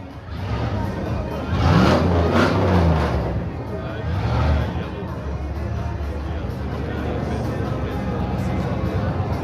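A rally car crewed by Eren Alver and Kerem Demirci pulls away at the Transanatolia prologue stage. A loud engine surge builds and then fades against a steady background of crowd babble and voices.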